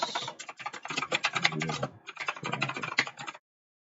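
Code being typed on a computer keyboard, rapid clattering keystrokes in two bursts separated by a short pause, close and clear with no talking.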